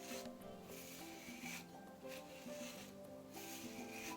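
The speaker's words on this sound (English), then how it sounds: "You need your little bristle brush and brush that on through." A bristle brush sweeps through greased natural hair in rhythmic, close rubbing strokes, roughly one every second.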